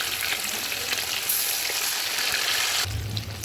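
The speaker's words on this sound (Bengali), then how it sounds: "একটু লাল লাল করে ভাজতে হবে মাছটা" Rohu fish frying in a pan of hot oil, a loud steady crackling sizzle that runs without pause, with a brief low clatter near the end.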